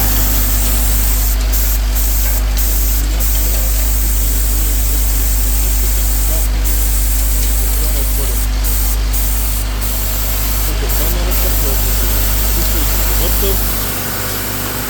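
A small, compact machine that fits handles onto plastic canisters, with a double conveyor, runs with a continuous loud mechanical whir and hiss, a low steady hum underneath and faint clicking ticks repeating throughout.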